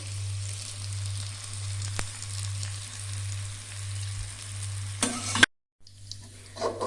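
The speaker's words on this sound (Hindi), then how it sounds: "अब इसको हम हल्का सा फ्राई करेंगे।" Okra fries lightly in a pan with a soft, continuous sizzle and a low steady hum underneath, broken by a brief silence near the end before the sizzling resumes.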